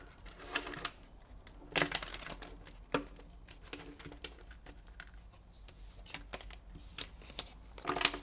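A deck of tarot cards shuffled by hand, soft papery flutters and occasional sharper snaps in uneven bursts, close and quiet, with no voices.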